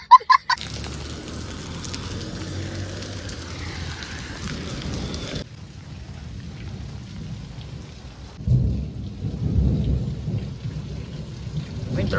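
Heavy rain pours steadily during a thunderstorm, with a sharp thunder crack at the start and deep rumbling thunder rolling in toward the end.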